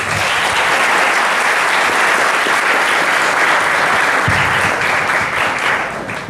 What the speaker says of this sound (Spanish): Un fuerte aplauso para el abogado.